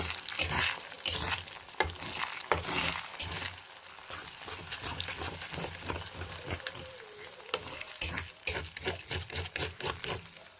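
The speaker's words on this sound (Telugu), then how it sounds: "ఇది అనేది బాగా ఫ్రై అయిపోవాలి." Eggs fry in oil with chili powder, giving a steady crackling sizzle with repeated scraping stirs and clicks of a utensil against the pan, fairly close and with no talk.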